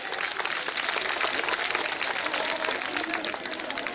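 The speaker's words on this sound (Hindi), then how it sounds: "इसलिए एक बार जोरदार ताली आप लोग मोदी जी के नाम पर बजाइए" Rally crowd clapping in Modi's name, a continuous broadband wash of many hands at moderate loudness, even and sustained from start to finish without speech on top.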